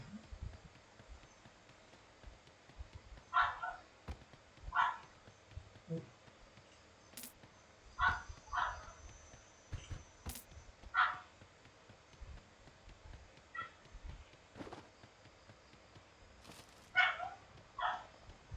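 Dog barking in the Sausage Man video game: several short, mid-loud barks spaced irregularly over a steady game background, with scattered clicks and thumps between them.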